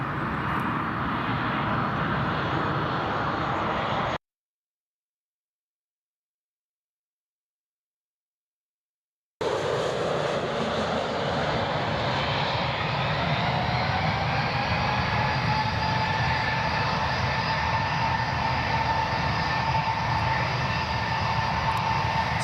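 TUI Boeing 737 MAX jet landing at Newcastle International Airport, a steady loud engine roar with a slowly falling whine; the sound cuts out completely for about five seconds midway, then returns just as strong.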